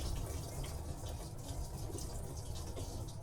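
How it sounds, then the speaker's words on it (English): Steady liquid gurgles and splashes as a whole bottle of treatment is poured down a drain, a continuous moderately loud flow with faint dripping textures and no talk. "you ended up pouring the whole bottle down, which is not going to hurt it"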